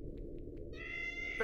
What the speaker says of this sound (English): Kitty, I want to pet the kitty!